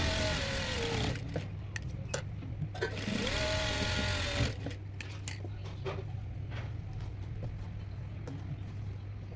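A sewing machine runs in bursts while stitching tucks on a princess-cut blouse, a close mechanical whir with a steady low hum, pausing and restarting with small clicks between runs.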